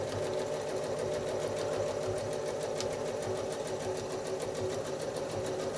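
A sewing machine runs steadily during free-motion quilting, its rapid, even needle chatter and motor hum sounding close and continuous with no talk.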